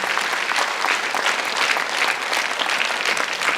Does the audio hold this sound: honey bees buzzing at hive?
no